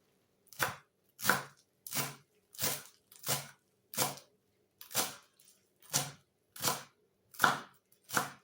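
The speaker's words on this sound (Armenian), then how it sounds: "Կանաչին կտրատում ենք" A knife chops fresh greens finely for a beetroot salad with plum sauce and pomegranate, producing a steady run of about a dozen crisp, evenly spaced cuts on a board, close and clear, with no talk over them.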